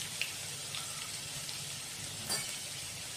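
Garlic cloves with curry leaves roasting in oil in a pan for Kolhapuri bhadang, a soft, steady sizzle and crackle running throughout with a few brief pops, heard close and quiet with no talk.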